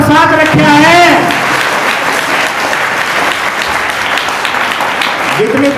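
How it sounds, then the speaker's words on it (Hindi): At a school admission festival and prize-giving ceremony, a crowd claps loudly and continuously. A voice speaks briefly at the start and again at the end, over the applause. "तालियां बजाएं।"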